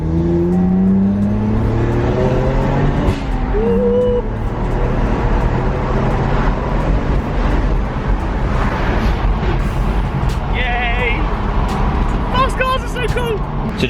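A BMW drives along with a steady, close engine drone and road rumble from inside the cabin. The engine rises and falls with gear changes, and people talk throughout.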